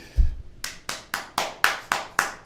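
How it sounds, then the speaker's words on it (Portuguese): Clapping at a live podcast taping as a guest is introduced, a few slow, loud, evenly spaced claps sounding close by after a brief thump. "com vocês, uma salva de palmas para Rei Physique."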